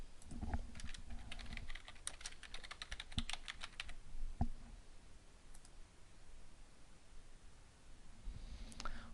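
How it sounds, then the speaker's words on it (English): Quiet, rapid keyboard typing with bursts of clicking keystrokes, pausing briefly, then a few scattered taps and another short burst at the end. "Let's begin by typing the phrase school achievement into the first search box."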